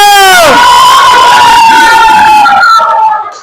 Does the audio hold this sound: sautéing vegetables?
no